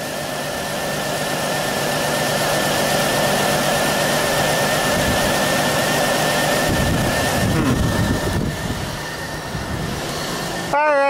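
A 2000 Pontiac Bonneville with a misfire on number 3 cylinder idles roughly, a loud, close, steady engine rumble with an uneven pulse that grows more ragged partway through, ending in a brief higher squeal.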